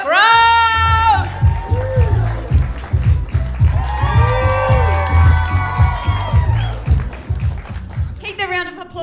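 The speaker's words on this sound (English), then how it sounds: "Let's start the applause. Louder, louder, louder." A comedy club audience at a live standup competition claps and cheers loudly in bursts, with shouts rising over the clapping while a host's amplified voice talks over it.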